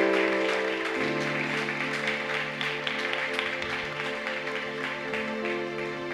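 A church congregation applauding during a worship service, a steady wash of clapping from a crowd that holds fairly even throughout, with sustained musical tones underneath.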